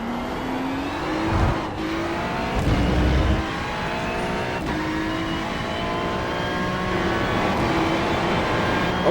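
A Ferrari GT3 race car engine laps Spa-Francorchamps in iRacing, droning steadily at high revs with shifting harmonic whine, a few brief bursts and gear changes, loud and continuous throughout.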